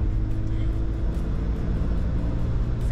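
A car drives along a road in Alaska with a steady, loud low engine rumble and road noise throughout, no clear rise in pitch, while a camera drone follows it.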